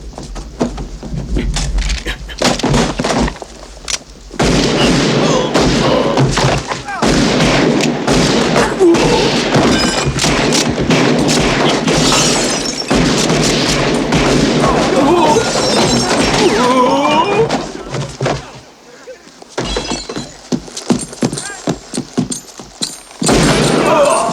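Gunfire erupts in a Korean-dubbed showing of the western film Unforgiven: loud, dense bursts of shots mixed with crashes and thuds, running almost continuously with only a few brief lulls.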